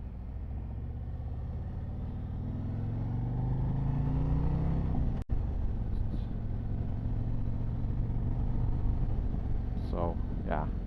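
A 2024 Harley Davidson Street Glide motorcycle cruising on the road, its engine giving a steady loud rumble with wind noise throughout and one sharp click midway.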